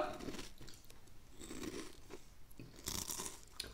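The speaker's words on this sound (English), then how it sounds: "You have to chew with your mouth open." Crunchy snack food from Flying Tiger chewed close to the mic with the mouth open, giving a run of crisp, wet crunches and bites with soft mouth sounds between them.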